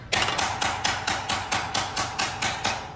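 Steady hammer blows ring on a curved metal panel resting on a stump, knocking down high spots, about eleven sharp strikes in an even rhythm, close and loud with no talking.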